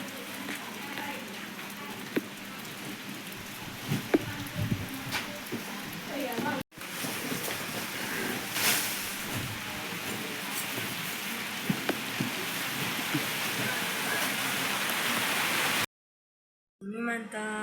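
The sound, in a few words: light rain drizzle falling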